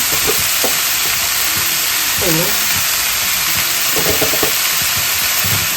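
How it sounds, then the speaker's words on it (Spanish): Chicken sirloin sears in a hot pan with a loud, continuous sizzle and hiss that fills the whole stretch, steady and close, with a few faint bits of voice and clatter underneath. "Para sellar bien la carne."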